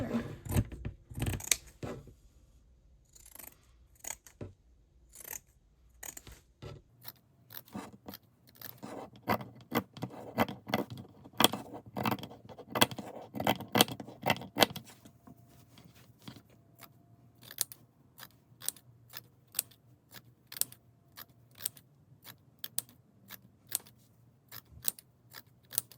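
Scissors cut fabric for a sewing project, one piece at a time: repeated crisp close snips and scrapes in uneven bursts, with a lull partway through and steadier chopping later, no talking.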